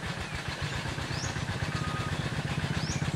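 A vehicle engine rumbles past a waterfowl pond at Ban Tad, Si Sa Ket, Thailand. The low, throbbing drone is fairly faint and steady throughout, with a few thin chirps above it.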